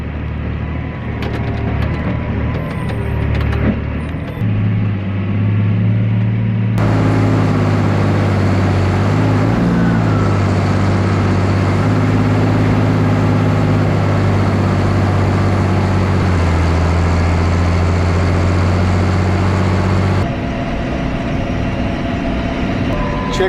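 Farm tractor hauling a harvest wagon on a hilly road at the last day of harvest, a loud steady engine drone with clanking, rattling mechanical noise and shifting tones as the load bumps along.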